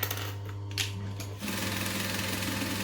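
Sewing machine stitching fabric on a mini quilt project, a steady motor whir running continuously, picking up louder and denser partway through after a brief pause.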